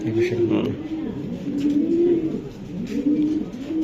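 Racing pigeons coo repeatedly in soft, rolling low calls, close by, with people talking throughout.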